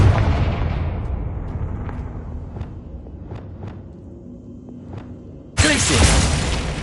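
A Confringo blasting spell explodes in the game Hogwarts Legacy, a loud boom fading into a long rumbling tail with faint crackles, then a second sudden blast of bright hissing noise near the end.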